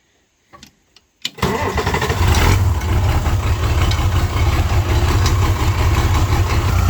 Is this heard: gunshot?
no